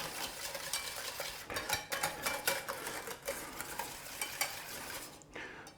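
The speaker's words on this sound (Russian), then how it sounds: "Вбиваем лимон." A whisk beating lemon juice into a hollandaise sauce in a pan, quick continuous scraping and clinking close by, with a faint sizzle beneath and no talk.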